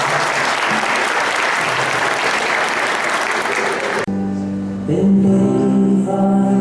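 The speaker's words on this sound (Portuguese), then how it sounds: "eu vou pedir, inclusive, que vocês deem uma salva de palmas" Applause from the audience at a gathering of the Detofol and Dettofol families in Chapecó, a dense, loud wash of clapping that runs steadily for about four seconds, then cuts off as a voice and music take over.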